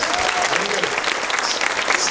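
A theater audience gives loud, sustained applause with cheering for the director of Phantasm at a cinema event, a dense wash of many clapping hands throughout.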